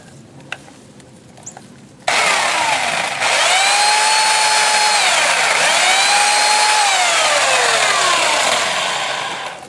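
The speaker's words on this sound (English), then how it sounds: "We got the little electric chainsaw hooked up." A small electric chainsaw starts abruptly and runs at a loud, steady high-pitched whine while cutting into an oleander bush, its pitch dipping and rising as the blade bites, close by with no talk.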